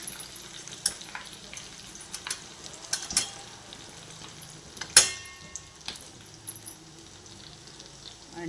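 A tempering of curry leaves, garlic and coconut crackles in generously poured oil; faint, sparse pops and spits over low background hiss, with one sharper crack midway.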